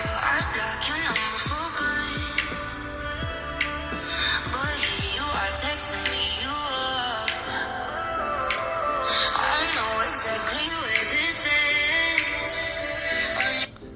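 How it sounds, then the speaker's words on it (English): Busy, layered audio with music and shifting tones plays through the small speakers of a Samsung Galaxy Note 10 phone for several seconds, fairly clear but lacking low-end depth. "but here's the sound of the speakers."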